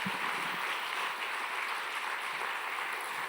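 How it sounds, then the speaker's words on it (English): Sustained audience applause following a string quartet performance, a dense, even wash of clapping from a crowd that holds steady throughout without any voices. "Please give them another round of applause."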